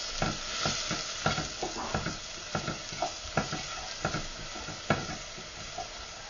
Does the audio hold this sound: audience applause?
no